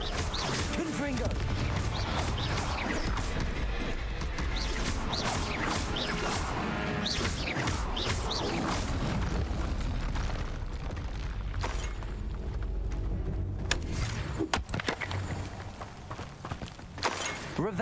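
Booming fire spell explosions from the Confringo spell in the video game Hogwarts Legacy crash repeatedly over dense game music and effects, loud and continuous, with voices speaking throughout.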